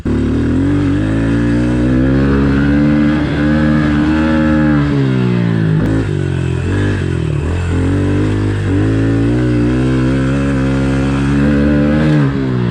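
A 2021 Honda CRF110F pit bike engine revs loud and close on a dusty track, its buzzing tone rising and falling as the throttle opens and eases, steady for the whole stretch with no talk.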